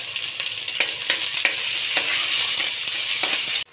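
Onion sautés with cinnamon and cloves in a pan for masala kanji: a bright, continuous close sizzle broken by repeated spatula scrapes and stirs at an uneven rhythm.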